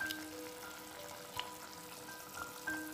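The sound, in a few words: shallow-fried fish added into boiling fish curry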